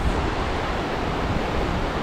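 Taughannock Falls in Taughannock Falls State Park, New York, a 215-foot waterfall below 400-foot cliffs, rushing as a steady, loud broadband roar of falling water that continues unbroken with no voices over it.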